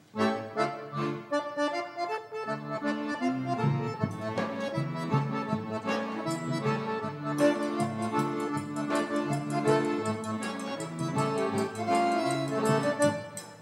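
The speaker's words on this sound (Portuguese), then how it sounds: "a gente escuta um sanfoneiro tocando assim" An accordion plays a lively festive tune of the kind heard in Campina on June 23, with a steady bass rhythm under bright melodic lines, close and continuous with no voices.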